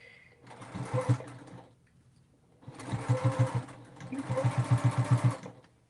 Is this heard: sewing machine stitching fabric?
yes